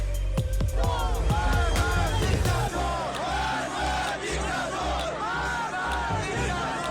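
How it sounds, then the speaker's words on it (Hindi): A crowd at Mahsa Amini's funeral in Iran shouts protest slogans, loud overlapping voices rising and falling in chant-like bursts over a low rumbling pulse. "भीड़ नारेबाजी करने लगी और ये नारेबाजी सारे ईरान में फैल गई"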